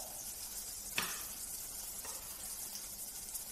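Butter melts in a pan with a soft, steady sizzle and a faint hiss. There are a couple of brief clinks or scrapes, and no voices.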